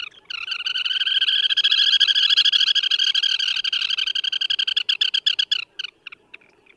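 A turnstone on the shoreline gives a fast, rattling chatter of sharp, high notes that runs for several seconds and then breaks into scattered short calls as it fades, clear and fairly close with no voices.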